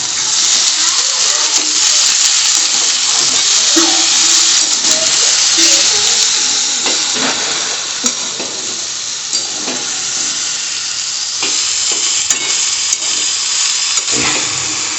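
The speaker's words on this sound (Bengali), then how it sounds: "ভালো করে এটাকে কষিয়ে তারপরে জল দিয়ে দেবো" Food sautés in a pan with a loud, continuous sizzle and occasional stirring scrapes, close by, with little talk over it.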